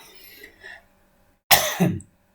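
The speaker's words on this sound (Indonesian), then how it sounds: "Maaf, aku agak batuk" A single short, harsh cough bursts out close to the mic after a moment of faint background murmur.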